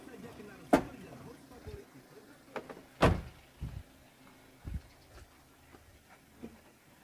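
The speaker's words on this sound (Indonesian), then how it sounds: "Untuk pintu belakang tadi bisa dibuka ya, ada tuasnya tinggal ditarik aja" A Toyota Avanza's rear door is opened by pulling its lever, producing a few sharp clicks and thuds of latch and panel against quiet background, with scattered handling knocks.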